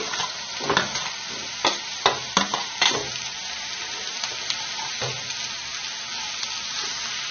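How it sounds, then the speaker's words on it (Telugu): Fried eggs go into a sizzling spicy yam curry in a pan and get stirred, with steady frying hiss and several sharp scraping knocks of the spoon against the pan early on. No one talks. "ఇప్పుడు దీనిలో ఫ్రై చేసి పెట్టిన గుడ్లు వేసేసుకోవాలి"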